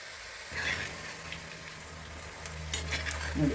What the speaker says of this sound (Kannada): ಈಗ ನಾನು ಒಂದೊಂದೇ ಕೋಡ್ಬಳೆಗಳನ್ನು ಹಾಕ್ತಾ ಇದ್ದೀನಿ ನೋಡಿ.